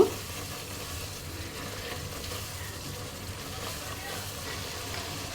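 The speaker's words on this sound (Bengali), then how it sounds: "বিরিয়ানি মশলা দিয়ে দিলাম এখন এটাকে ভালোভাবে কষিয়ে নেব" Beef sautés with homemade biryani masala in a pot, a moderate, even sizzle with muffled stirring scrapes throughout, a brief knock at the start and no speech.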